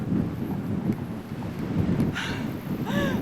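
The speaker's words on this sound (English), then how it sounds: "The wind has really picked up." Strong wind on a steep mountain trail in New Zealand roars steadily against the microphone, a constant rushing gust with faint higher tones near the end.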